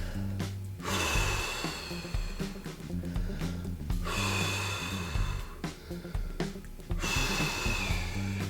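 Three long, deep exhales during an arm-behind-the-head stretch, each a breathy whoosh of a few seconds, close to the mic and evenly spaced.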